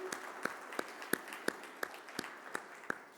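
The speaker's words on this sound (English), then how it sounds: "I would please want to give them a warm round of applause for their..." A small audience at a construction and infrastructure awards summit gives a sparse round of applause, a few distinct claps sounding roughly every third of a second, quiet and slightly distant in a large room.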